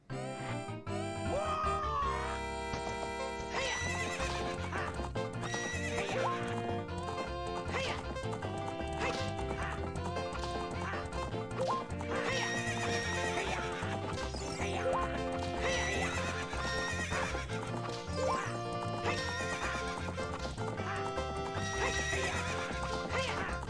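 A horse in Zelda: Ocarina of Time (Master Quest, Nintendo 64) whinnies, then hooves clip-clop steadily in a gallop, with game music playing throughout.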